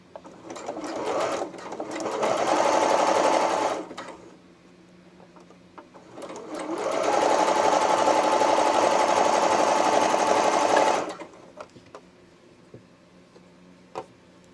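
A sewing machine stitches a romper seam in two sustained bursts, the first shorter and the second longer, each a loud close whirring hum with a short pause and light handling noises between.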